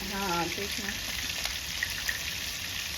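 Fish fry in a pan in a kitchen in Kampala, giving a steady close crackling sizzle with faint pops, while a person talks briefly at the start.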